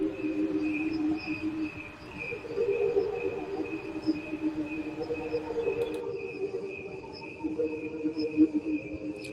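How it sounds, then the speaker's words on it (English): A played-back recording of crickets chirping, steady high trilling pulses repeating continuously at moderate volume over a faint low hum, with no talk. "Can you hear the crickets? Hang on, I'll play the crickets."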